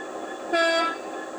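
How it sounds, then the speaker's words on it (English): A short, bright high-tone air horn blast from an Accurascale Class 66 model locomotive sounds once, about a third of a second long, over a steady background hum. "Function 12 is a short high tone air horn."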